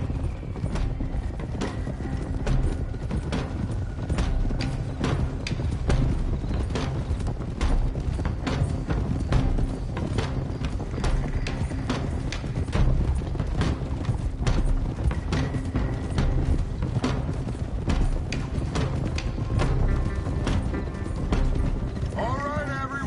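Horses' hooves clip-clop steadily in a video game, a continuous rhythmic trotting with creaks and mechanical rattles of tack, running throughout at close range.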